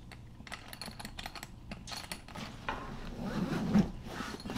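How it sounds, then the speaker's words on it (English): Dual AquaGuard zippers on the main compartment of a Mystery Ranch 3-Way expandable travel backpack are pulled open in a series of quick, close ratcheting zips, followed by rustling fabric as the pack spreads open. "Dual AquaGuard zippers right there."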